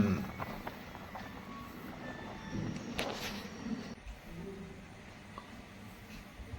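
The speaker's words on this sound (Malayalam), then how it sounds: "ഒരു മിനിറ്റിന് ശേഷം വണ്ടി എടുത്തിരിക്കുകയാണ് കരുനാഗപ്പള്ളി സ്റ്റേഷനിൽ നിന്നും" An Intercity Express train pulls out of Karunagappally station in Kerala with a faint low rumble, soft clatter and a brief higher squeal partway through, all fairly distant and quiet.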